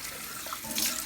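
Tap water runs over freshly grated ginger in a sink, a soft continuous splashing rinse with a slight surge near the end.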